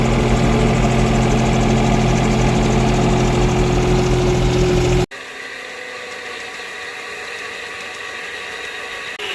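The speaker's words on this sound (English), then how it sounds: "so I'm actually gonna take the tractor home" Farm tractor engine idling on a dairy farm, a steady loud rumble that suddenly drops to a quieter, thinner idle partway through, with no voices.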